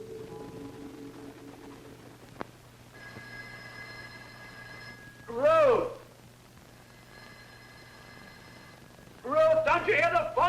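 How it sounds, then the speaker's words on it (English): A telephone bell rings in two long bursts with a pause between, set in an indoor 1960s scene, with brief voices and a short knock in between the rings. "Don't you hear the phone?"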